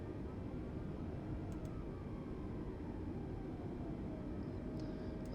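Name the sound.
airplane taxiing after landing in a flight simulator video game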